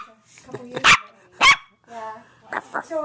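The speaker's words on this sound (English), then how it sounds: "So we find a beautiful, beautiful, beautiful doggy here." A dog gives several sharp, loud barks at close range, two big ones early and a quicker cluster near the end, with softer whimpering yips in between.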